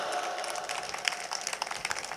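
Audience clapping at a late-night poetry gathering, a steady patter of many hands of moderate loudness that carries on evenly from start to finish.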